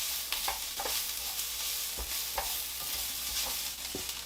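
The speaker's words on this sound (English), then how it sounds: "we're sort of power softening these onions" Onions fry over high heat for Texas chili, a loud continuous sizzle close by with a series of soft scraping stirs at an uneven rhythm.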